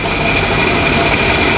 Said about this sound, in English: You'll hear a slight change in the engine when I push the button.